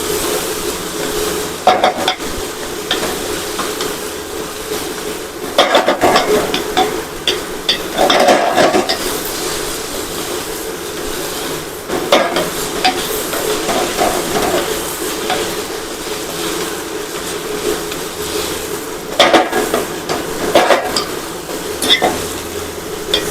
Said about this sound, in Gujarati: હવે આપણે તેને હલાવી લેશું તેને સારી રીતે આપણે મિક્સ કરી લેશું